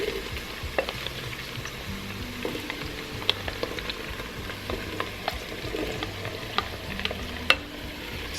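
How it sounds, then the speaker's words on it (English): Plantain pieces going into a pan of onions frying in hot oil for Nigerian plantain porridge, a steady close sizzle and crackle with occasional stirring clicks and no talk. "So now I'm going to add in my plantain. So just gently add it in."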